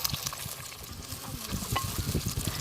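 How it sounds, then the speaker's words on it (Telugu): Two or three sliced onions drop into hot oil for a chicken fry, giving a steady sizzle with stirring scrapes and clatter close by; no one speaks. "నూనె కొంచెం అంత వేడి కాగానే ఈ కోసి పెట్టుకున్న ఒక రెండు మూడు ఉల్లిగడ్డలు అల్ల వేసుకోవాలి"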